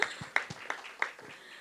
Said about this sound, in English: let's give a big round of applause to Shashi.